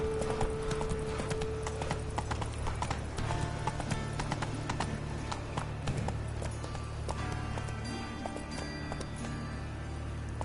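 Hooves of Roach, a horse in the video game The Witcher 3, clip-clop steadily at a brisk pace over dense game music and ambience, close and continuous throughout.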